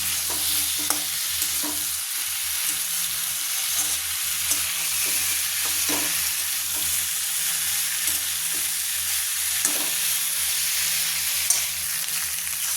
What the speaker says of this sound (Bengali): দেখো আগে থেকে ভেজে রাখা সবজিগুলো এবার মশলার মধ্যে দিয়ে দিলে এরপর এটাকে ভালো করে নাড়াচাড়া করবে